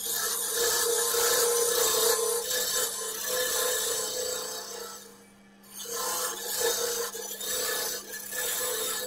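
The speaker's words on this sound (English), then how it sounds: "circular scraper for the final tearing of the inside and the finishing the bottom of the hollow form." Circular scraper hollowing the inside and finishing the bottom of an oak and beech lidded hollow form on a wood lathe, a steady continuous rasping scrape that drops out briefly midway, then resumes.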